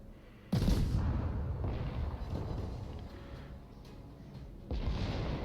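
A Warspite battleship fires its heavy guns in a naval warfare video game, with a loud booming salvo followed by rumbling decay and a second blast near the end.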